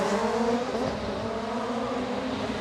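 Rallycross race cars launch from the start at Kymiring in 2025, a loud, dense roar of revving engines held at full throttle, close and steady throughout.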